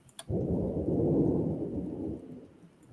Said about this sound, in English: I like the sound of that out there. It's raining, it's storming, it looks like.